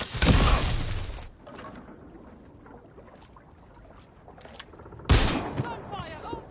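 Two sharp bursts of gunfire in a video game, one at the start and another about five seconds later, loud and close, with shouting voices and game sounds between them.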